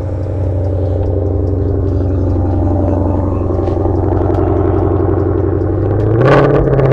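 Ford Mustang Shelby GT500 V8 just started at a car event, a deep steady rumbling idle throughout, loud and close, with a brief sharp blip of revs near the end.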